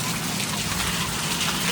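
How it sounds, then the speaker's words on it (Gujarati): Heavy rain pours down in a dense, unbroken roar close by, steady throughout the short stretch. "આમ જો વરસાદ તમે ખાલી જોઈ શકો છો કેટલો જોરદાર આવે છે અત્યારે"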